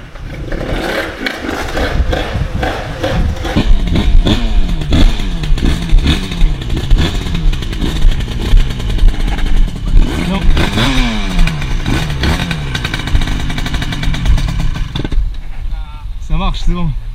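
Rieju two-stroke motorcycle with a 70cc engine fires up and revs hard, its loud buzzing whine rising and falling repeatedly in sharp bursts with mechanical clatter, close by, while people talk in the background.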